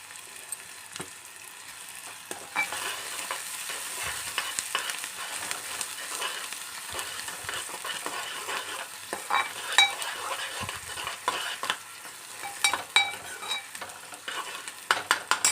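Curry leaves and onion fry in a pan for a Telangana goat liver dish, with a steady close sizzle and repeated scraping stir strokes and utensil clicks that grow busier toward the end. No one speaks.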